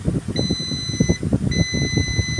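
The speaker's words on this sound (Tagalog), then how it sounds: "Yan buzzer yan." Two long, high electronic beeps from a small buzzer on a circuit board of a unit repaired after a defective switching control IC, one after the other, ringing over low rumbling noise.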